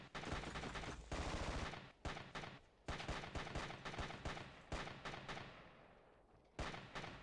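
Repeated bursts of automatic gunfire in the Ghost Recon shooter on PS2, loud and close, rattling in short volleys separated by brief pauses.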